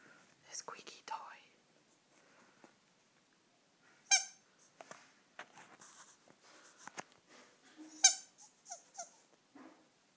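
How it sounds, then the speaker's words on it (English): A dog plays with a squeaky toy, giving several sharp, high squeaks spread apart, with soft whispery voices, rustling and light pattering between them in a quiet room. "she's probably more interested in the squeaky toy"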